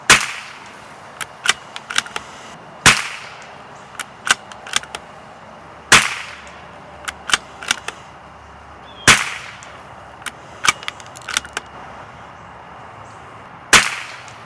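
Shots from a CZ457 rifle firing Eley Biathlon .22 ammunition on a 100-yard range, sharp cracks spaced a few seconds apart, each followed by smaller distant clicks and pops from the range.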